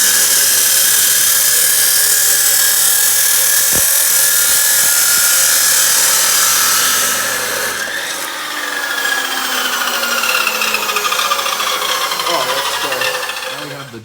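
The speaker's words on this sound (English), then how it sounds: "The drive shaft cut, we took about right under 9 inches out" A power tool cuts through a car drive shaft on an AWD Honda CRX build, giving a loud continuous high grinding whine that shifts pitch and dips partway through, close by.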